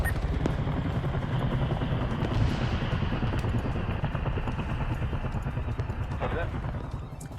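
An MI-24 helicopter in the Arma 3 military game, its steady rotor and turbine roar droning loud and continuous throughout, with brief radio-like chatter over it near the end.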